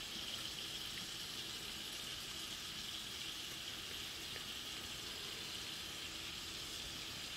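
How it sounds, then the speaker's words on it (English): Water running from a tap into the pouches of a BullBell home gym, a steady, even, rushing fill that continues unbroken and alone, fairly soft and close. "Water's filling up."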